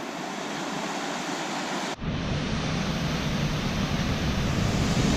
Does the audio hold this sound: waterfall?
yes